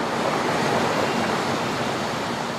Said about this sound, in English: engineers deploy powerful diesel pumps and run them 24 hours a day.